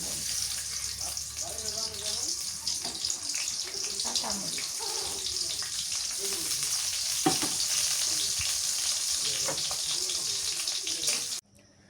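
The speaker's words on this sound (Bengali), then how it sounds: "ভাজি করে পেঁয়াজ দিয়ে" Vegetables with onion sizzle and spit in hot oil in a home kitchen, a steady crackling hiss with stirring scrapes and clatter for most of the clip, ending abruptly.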